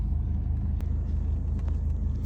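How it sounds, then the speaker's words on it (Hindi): Traffic jam on a Birmingham street, with a steady low rumble of idling and slowly moving cars, heard from close by at a moderate level with no one speaking. "People can see that there is traffic jam."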